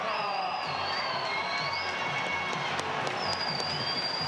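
A packed stadium crowd at a 3000m race roars in a steady, sustained wall of cheering, with whistles and shouts rising through the din.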